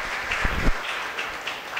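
Audience applause welcoming the respected Maharaj at a public gathering, a steady wash of clapping from a crowd that holds level through the moment with a couple of louder swells and no voices over it.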